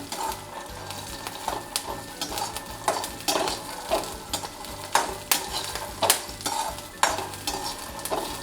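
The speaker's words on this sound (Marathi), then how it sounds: "आपली मिरची लसूण दाणे किती छान परतले गेलेले आहेत" Green chillies, garlic and peanuts sauté in a pan for thecha, with a soft background sizzle broken by regular, close scraping strokes of a spatula roughly every half second; nobody speaks.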